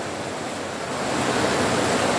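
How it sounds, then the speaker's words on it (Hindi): Steady rainfall at night over a small home garden in Dhampur, India, during January's first rain: a continuous dense hiss of drops that swells slightly louder partway through, with no talk. "लेकिन बारिश की आवाज़ आप सुन सकते हैं,"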